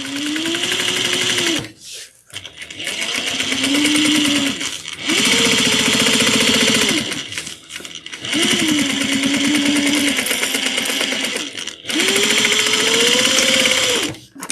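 Sewing machine back stitching a seam on a Minerva tote bag, running in about five close, steady bursts of rapid stitching separated by short pauses.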